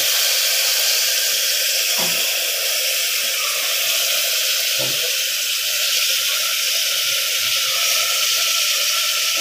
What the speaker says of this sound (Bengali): আমি ম্যারিনেট করে রেখেছিলাম মাংসটা, এখন প্রেসার কুকারে বসিয়ে দিব।